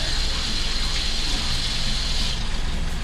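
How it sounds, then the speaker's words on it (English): Hot water gushes steadily from a tap while a hot sauce bottle is rinsed out, a continuous loud splashing rush with no talk over it. "Wash them off real good. You obviously can't get inside the bottle. And then rinse it out."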